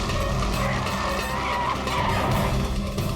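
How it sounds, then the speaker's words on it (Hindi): A car skids hard to a stop on a crime drama, with loud continuous tire squeal and engine noise running throughout the short burst and no talk over it. "कोई अच्छी जगह पे गाड़ी रोको सर"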